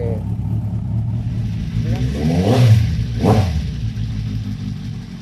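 A used motorcycle fitted with a Remus exhaust revs in two sharp blips that swell and fall back to a low idle rumble, close and loud.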